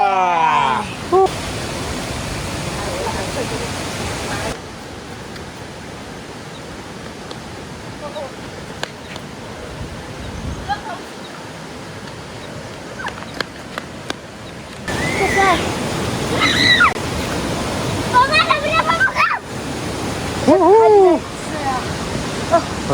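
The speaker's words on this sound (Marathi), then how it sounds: "धबधबा" A waterfall roars as a steady, broad rush of falling water, with voices talking over it in stretches and bursts of louder splashing near the end.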